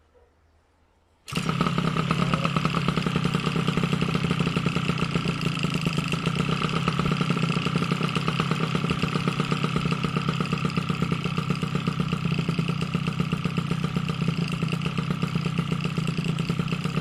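A Motobécane 88 moped's cold two-stroke engine starts on the first try after a second of quiet, then idles loudly and steadily nearby with an even buzzing putter for the rest of the clip.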